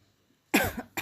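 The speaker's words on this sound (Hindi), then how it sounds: "ज़्यादा बात मुझसे की नहीं जाती, खांसी होने लग जाती है" Two harsh, close coughs in quick succession, the first longer and rougher, after a moment of near silence.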